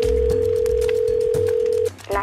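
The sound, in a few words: telephone dial tone while calling 911 on a cell phone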